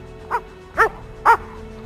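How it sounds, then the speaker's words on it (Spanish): A small female dog gives three sharp, close barks, evenly spaced about half a second apart, each a bit louder than the last, against a quiet backdrop with no talking. "la perra favorita de Federico II de Prusia, esta que podéis ver por aquí, llevaba por nombre Pompadour"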